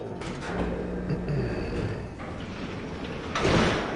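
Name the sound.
bay door opening in Grim Fandango video game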